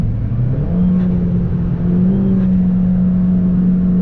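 Dodge Dart engine humming steadily at a constant drone inside the car, the pitch stepping up briefly as gears are shifted, loud and close.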